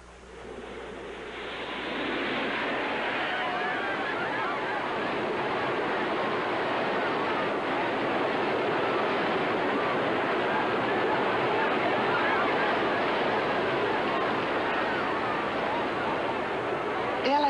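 A giant artificial wave in the Big Surf wave pool in the Arizona desert, a 4.5-million-gallon pool packed with swimmers, builds over about two seconds into a broad, rushing surge that roars on steadily at moderate level.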